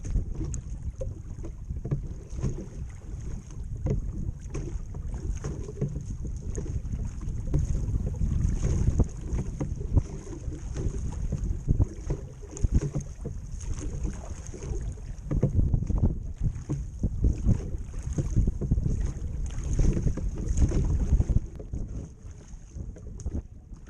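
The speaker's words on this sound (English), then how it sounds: "rowing even into this stout wind is really not difficult" A light 12 ft sailing skiff rowed into a stout wind on a lake, with steady wind buffeting and rushing water, plus faint creaks and oar splashes running throughout, no voices.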